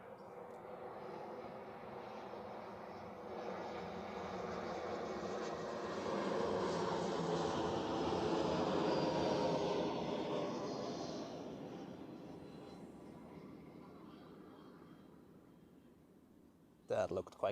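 A jet airliner landing at Zurich Airport on runway 14, a broad engine roar building to a peak mid-pass and fading as it touches down, with a short sharp knock near the end.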